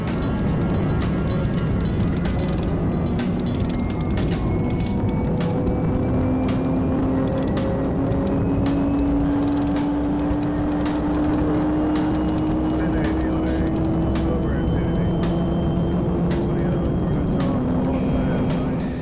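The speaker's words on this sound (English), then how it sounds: "the patrol team identified a silver car moving at a high speed" Silver car speeding down a highway at close to 100 mph during a police chase, a steady engine drone and road roar throughout with rising engine pitch, heard alongside continuous talk.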